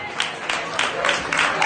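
Live audience applause for a bandleader and his orchestra at a concert in Patras, a steady crowd clapping with a few sharper bursts, close and fairly loud throughout its short span.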